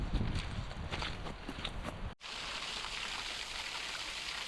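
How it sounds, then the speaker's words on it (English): Heavy rain hammers down on a hiking trail along the West Highland Way as a constant loud hiss. Fainter irregular taps and steps sound in the first half, then a brief dropout and a steadier downpour. "The rain got heavier and the ground worse."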